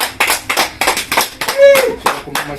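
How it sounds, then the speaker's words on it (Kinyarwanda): Rhythmic hand clapping in quick, steady bursts at a civil wedding ceremony held at a local sector office, with voices murmuring underneath and a brief whistle-like tone partway through. "ndagukomera amashyi"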